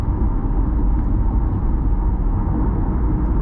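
Steady, dense road and engine rumble fills the cabin of a 2020 Chevrolet Corvette C8 3LT Z51 cruising on the highway, an unbroken low drone with no talking.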